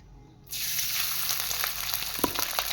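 Cooked rice drops into hot oil already frying cinnamon, bay leaves, cloves and cardamom, setting off a sudden loud, steady sizzle with scattered crackles and pops that carries on without pause.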